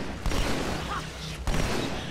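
Enemy gunfire in Halo 2 Anniversary rattles in dense continuous bursts, with a sharp loud burst near the start and another about midway, over game noise and a voice talking.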